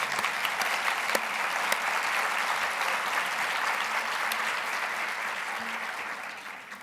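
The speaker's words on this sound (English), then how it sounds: "Please join me in a round of applause for our team." Dense, even applause from a conference audience honoring the organizing team at a maternal care event, steady throughout and slowly tapering toward the end, with no voices over it.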